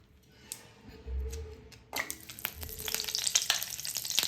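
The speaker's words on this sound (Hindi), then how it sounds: "तो यहाँ पे मैंने थोड़ा सा ऑयल गरम किया है और थोड़ा सा मैंने यहाँ पे बटर यूज़ किया है।" Oil and butter heat in a pan for cumin tempering, sizzling softly at first, then breaking into a brighter, crackling fry with scattered pops and a faint low thump, close and fairly quiet.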